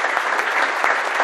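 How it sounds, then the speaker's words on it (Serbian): Dense, steady applause from a crowd at a youth political gathering, close and loud, filling the brief moment without any voices. "Aplauz."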